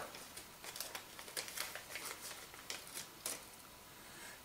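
Scissors or a blade cutting open the plastic packaging of a portable Battleship game: faint, irregular snips, clicks and crinkles close by, with no voices.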